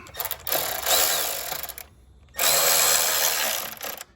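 A nut on a Honda Odyssey battery hold-down being tightened with a power tool: two loud, steady whirring bursts, close up, separated by a brief pause, with no talking.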